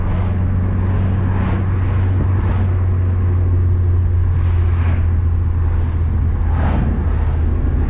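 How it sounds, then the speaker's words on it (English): A tuned 2015 Subaru WRX with the FA20DIT turbo engine cruises with a steady, loud low drone and a constant hum from inside the cabin, with wind noise layered over it and no talking. "feeling of what the car sounds like."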